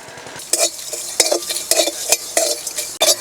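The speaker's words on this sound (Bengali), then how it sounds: "শুকনো খোলা এবার ভাজা মশলা ভেজে নেব" Dried red chillies with whole coriander, cumin, fennel and garam masala are dry-roasted in a pan, giving steady close stirring scrapes and light rattling in a quick, uneven rhythm, with no voices.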